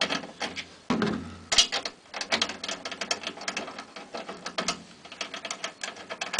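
The tension rods on a Tama snare drum are loosened with a drum key, making repeated close ratcheting clicks and metallic turning sounds in irregular bursts with short pauses, and no talking.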